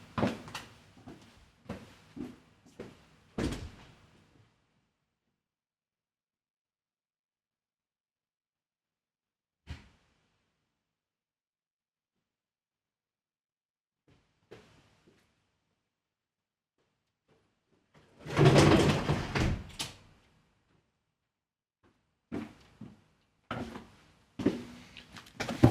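Doors in a house being shut as rain blows in: a few scattered knocks and clatters separated by long silences, then one longer rattling burst followed by more sharp thuds.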